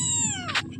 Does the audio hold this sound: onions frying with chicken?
no